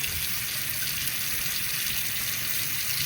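Tap water runs steadily into a sink while waiting for it to heat up, a constant even gush with no pauses, close and moderately loud.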